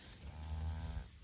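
Cattle grazing in a multi-species pasture of eastern gama grass, orchard grass, fescue and bluegrass, with a low, soft lowing or breathing sound up close, brief and muffled over faint outdoor background.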